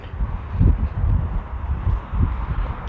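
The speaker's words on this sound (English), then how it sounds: "But boy, is it windy." Steady low rumbling wind buffeting the microphone on a hiking trail, gusting in waves with no voices.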